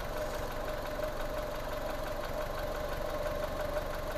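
Fiat 500 engine idling, a steady mid-pitched hum with a faint knocking rattle running evenly throughout, close and continuous with no talking.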